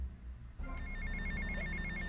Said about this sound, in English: And we got a phone call.